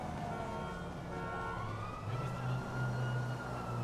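An ambulance siren in the game GTA V wails in steady rising and falling tones over a constant engine and traffic rumble, at moderate level.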